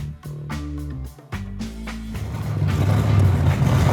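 A 1965 Shelby Cobra arrives with its engine note shifting through a few stepped revs, then swelling into a louder, rough rumble as the car draws near.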